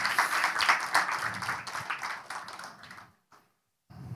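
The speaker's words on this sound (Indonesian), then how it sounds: "tepuk tangan buat kemuliaan Tuhan." Congregation applauding at a church youth service, a dense wash of clapping that fades out toward the end, briefly returns, then resumes faintly.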